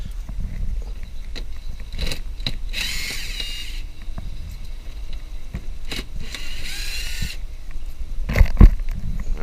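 A power drill spins out Phillips head screws on the front of a Cadillac SRX during a washer level switch replacement, with two short whirring bursts separated by clicks, handling knocks and quiet workshop background.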